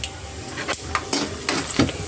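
Chana dal, urad dal and cashews crackle in hot oil, a soft steady sizzle broken by a few sharp stirring scrapes and spoon clinks, close by with no talking.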